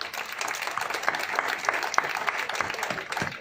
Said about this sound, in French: Donc je crois qu'on peut l'applaudir.